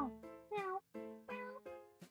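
Several cats meow in a quick series of about six distinct calls, some short and some drawn out, close and clear with brief pauses between them.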